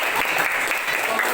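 A classroom of Islamic-school fifth graders gives a steady burst of applause for a student group, dense continuous clapping filling the short moment at close range.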